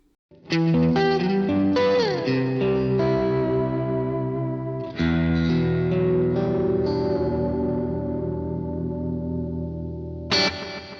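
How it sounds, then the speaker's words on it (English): Electric guitar through a Boss GT-1000 set to a clean amp pushed to the edge of breakup, chords ringing out with slight grit and echo, a second strummed phrase following, then a sharp final hit. "it's a clean amp on the verge of breakup"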